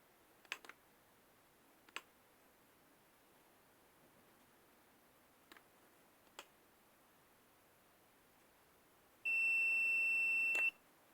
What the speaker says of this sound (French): Au niveau du front, il sonne.